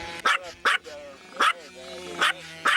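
A dog barks sharply five times in a steady, evenly spaced series, loud and close, with voices talking around the barks.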